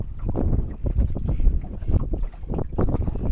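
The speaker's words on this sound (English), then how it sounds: "I've got the mizzen flapping a little bit." Mizzen sail on a Drascombe Lugger flapping in the wind while close-hauled, a close, irregular fluttering and buffeting mixed with wind noise over the microphone.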